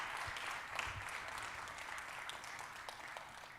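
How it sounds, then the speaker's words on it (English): An audience at a McClendon Scholars Program lecture applauds with steady, moderately faint clapping that continues throughout without voices. "We stand to applaud you."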